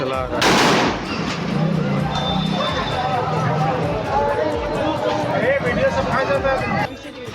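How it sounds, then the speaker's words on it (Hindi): A single sharp rifle shot fired into the air cracks out near the start, then a crowd keeps up excited chatter and shouting that fills the rest. "वीडियो में दिख रहा है कि 2 लोग हवा में फायरिंग कर रहे हैं"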